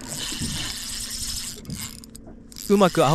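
Fishing reel drag clicking while fighting a squid on the Noto coast, a short rapid ratcheting buzz followed by quieter mechanical clicking, a voice speaking near the end.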